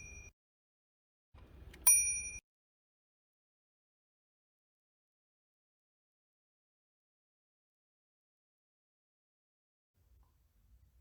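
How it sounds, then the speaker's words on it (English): A single bright ding from the margin bell of a 1925 Olivetti M20 typewriter rings out clearly after brief mechanical clicks, then near silence follows. "The bell advises when you are near to the margin, do you see?"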